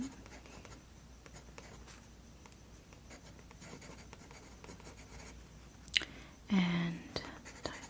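A pen writes softly on a library card in a quiet, close ASMR setting. The faint scratching runs steadily and is followed near the end by a louder rustle and a clack. A soft voice is heard briefly.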